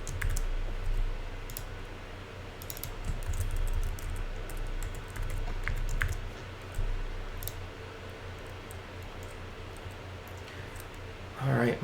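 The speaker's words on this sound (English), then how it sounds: "Double check my typing skills." Typing on a computer keyboard while setting up an email account password, bursts of quick soft key clicks at close range with pauses between, steady room hiss underneath and a brief louder noise at the end.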